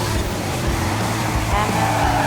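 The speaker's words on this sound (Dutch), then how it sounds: "Hij drift een beetje." A car drifts through a bend in a racing video game, a loud, dense engine roar that holds steady and swells slightly near the end, with a voice talking over it.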